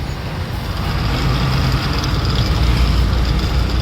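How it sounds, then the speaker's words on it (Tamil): Dense, steady highway traffic on the Ernakulam to Thiruvananthapuram road in Kerala, a continuous loud broadband roar of passing trucks, buses and cars with no break and no voices. "இந்த ஹைவேஸும் டிராஃபிக்கு தான் இருக்கும்"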